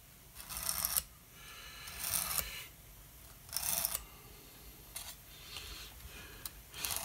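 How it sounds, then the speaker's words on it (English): A tool scrapes along a groove to clear out dust, making several rough rasping strokes about a second long each with short pauses between them, close and fairly loud with no speech. "Now what I'm going to do is just scrape along here"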